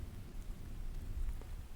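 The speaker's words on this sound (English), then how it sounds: "Yes, it's a bit rainy today." Rain falls steadily in the Hunt: Showdown video game, a dense, soft hiss with a low rumbling undertone and no talk.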